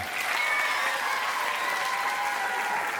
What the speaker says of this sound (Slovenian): Aplavz za 4, sedaj